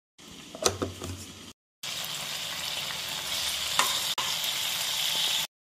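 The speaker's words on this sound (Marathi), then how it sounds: "वांगे आणि टोमॅटो फ्राय झालेले आहे" Eggplant and tomato sizzle steadily in a hot pan, a dense crackling hiss broken by a brief pause and an occasional stir.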